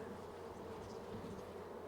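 Honey bees buzz steadily in a hive packed with brood and honey, a soft, continuous hum that holds close and even with no voices over it.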